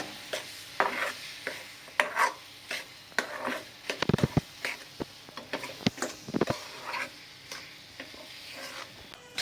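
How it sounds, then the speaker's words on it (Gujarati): Whole wheat and millet flour being stirred into melted jaggery in a pan with the gas turned off, making sukhadi: irregular scraping and stirring strokes, close and moderately loud, with a few sharper knocks of the spoon against the pan. "હવે ગેસ બંધ કરીને ગોળ સાથે લોટને મિક્સ કરવાનો છે"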